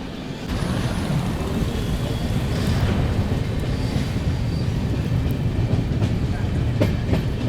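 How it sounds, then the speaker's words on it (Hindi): The Janmabhoomi Express, a push-pull locomotive train, crosses the Godavari river bridge before Rajahmundry with a steady, loud rolling rumble and faint rhythmic clatter of wheels on the rails, heard from on board. "बस अभी अपनी ट्रेन क्रॉस करने वाली है गोदावरी रिवर, राजमुंड्री पहुंचने से पहले।"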